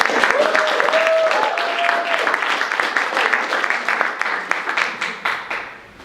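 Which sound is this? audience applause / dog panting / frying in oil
audience applause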